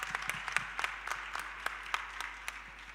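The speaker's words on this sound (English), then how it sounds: "we're going to give you an applause." An audience at a Women in Print panel discussion applauds, a fairly sparse round of individual claps with distinct sharp hits over a soft background, steady for a few seconds.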